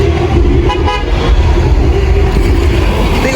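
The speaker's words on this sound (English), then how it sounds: "Big old dirty truck." A big, dirty truck sounds its horn on a busy New York street, a loud sustained honk over steady traffic rumble with no talking.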